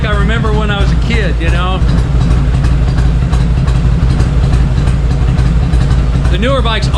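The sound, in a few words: 1967 Harley-Davidson Electra Glide Shovelhead engine idling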